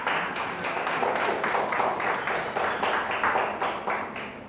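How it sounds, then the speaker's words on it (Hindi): A church congregation applauds loudly, with dense, steady clapping and some scattered cheering that carries on without a break for several seconds. "आइए जोरदार ताली से इसको दावन यीशु मसीह का धन्यवाद करें।"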